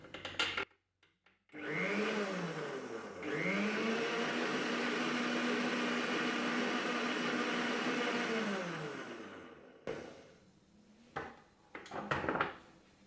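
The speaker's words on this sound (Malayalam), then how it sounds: "വെജിറ്റബിൾ ഓയിൽ ചേർത്ത് കഴിഞ്ഞാൽ സ്പീഡ് കുറച്ച് ജസ്റ്റ് ഒരു 30 സെക്കൻഡ്സ് ബീറ്റ് ചെയ്താൽ മതി." An electric mixer beats orange cake batter with vegetable oil, running steadily for several seconds at a whirring pitch with a brief speed change, then stops, followed by a few clatters.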